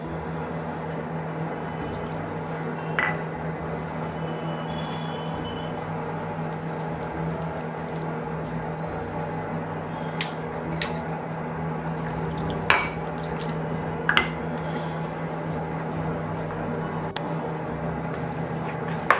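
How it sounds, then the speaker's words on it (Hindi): Batter of flour, salt and water being mixed in a bowl, with steady soft squishing and scraping, occasional clinks of a spoon against the dish, and a faint constant hum in the background, no voices. "सारी चीज़ अच्छी तरह से मिक्स कर लेती हूँ और थोड़ा थोड़ा पानी ऐड कर देती हूँ और एक घोल बना लेती हूँ"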